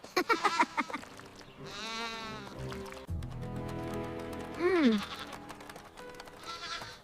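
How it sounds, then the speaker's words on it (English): A goat bleats several times on slippery wet clay mud, with a sustained wavering call and a short rising bleat standing out clearly over a soft, steady background. "Look, the funny goat is not falling down in the wet mud."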